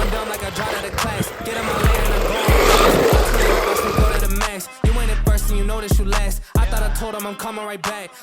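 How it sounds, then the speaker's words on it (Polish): A KFPLANA KF18 RC car races at high speed, its wheels rattling and thumping over a rough surface with a rhythmic pounding, loud and close, while music plays underneath. "Samochód faktycznie rozwija ogromne prędkości."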